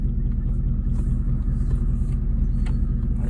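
A scrap hauler truck rolls slowly in first gear, its engine giving off a steady, close, low rumble that holds even throughout with no revving.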